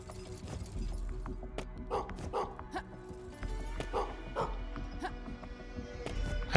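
Dog barking with yips and whimpers in the steampunk Metroidvania game Gestalt: Steam & Cinder, short sharp calls scattered across a busy game soundscape with a low steady hum beneath.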